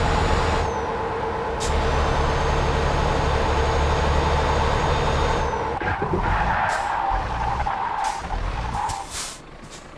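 A truck in Euro Truck Simulator 2 skids with traction control on, a sustained engine drone and tire-slide roar that holds steady, then breaks up into uneven bursts and fades toward the end.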